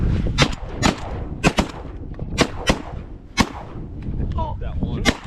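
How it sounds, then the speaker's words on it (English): Shotgun blasts ring out during a South Dakota duck hunt, about eight sharp reports spaced irregularly over a few seconds, loud and close with outdoor ambience between shots. "We gotta shoot him, right? Shoot those 2."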